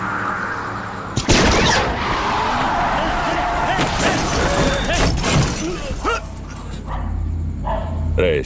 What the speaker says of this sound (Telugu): ఏదో పేలినట్టుంది. అన్నా, బుల్లెట్లా ఉందన్నా.